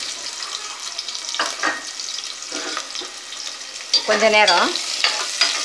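Chopped small onions sautéing in hot oil for mutton kothu kari, a soft continuous sizzle with occasional stirring scrapes and a brief spoken phrase partway through.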